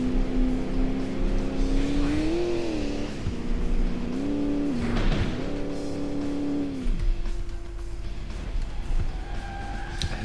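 A car engine in the video game Alarm für Cobra 11: Burning Wheels drones loudly, rising and falling in pitch through several revs before settling into a steady hum.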